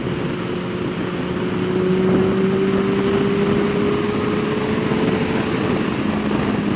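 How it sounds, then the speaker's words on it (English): A Kawasaki Ninja ZX14R motorcycle accelerates in sixth gear with a steady, loud engine drone. The note rises slowly as speed builds, with wind rush around it and no speech. "Just an incredible amount of power in this motorcycle."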